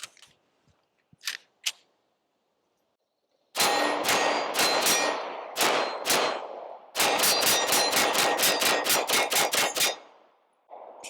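Sharp, loud pistol shots from a Dan Wesson DWX fired at a range, first a few spaced shots, then a rapid string of about ten evenly paced rounds, with quiet gaps between.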